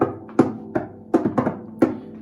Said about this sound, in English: And many, many times we're also asked to be a drum.